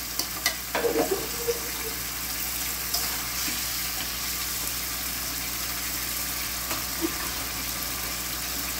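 Masala being sautéed in a pan before bottle gourd goes in, with a steady broad hiss of frying throughout and a few soft stirring clinks near the start, close and even.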